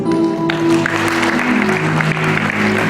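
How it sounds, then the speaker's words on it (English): A church congregation claps hands together in a loud, continuous, fairly dense clatter that fills the room for the whole stretch, close and without pause. "Can you clap hands for Jesus?"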